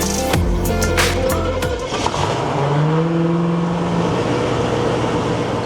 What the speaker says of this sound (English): Let's see if this jet boat's gonna work.